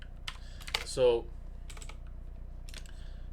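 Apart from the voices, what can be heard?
typing on a computer keyboard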